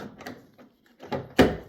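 Key-turned locking of a 2001–2005 Honda Civic door with a replaced lock actuator: a few soft mechanical clicks, then one sharp, louder clunk near the end, close by with no talk.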